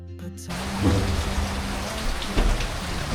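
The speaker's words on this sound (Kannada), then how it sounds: "ಹೆವಿ ಮಳೆ," Steady heavy rain pours outside an Alleppey backwater houseboat in Kerala in cold weather, a dense continuous wash with a few stronger surges and low rumbles, no voices.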